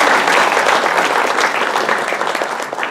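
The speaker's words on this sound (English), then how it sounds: "Just another little round of applause for these guys." An audience applauds steadily for about three seconds, a dense wash of clapping hands that holds at full strength throughout and eases only slightly near the end, with no talk over it.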